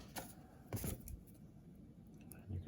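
Scissors trimming paper while decorating a postcard give a few short, quiet snips and crisp rustles, spaced apart, close to the microphone, with no talking.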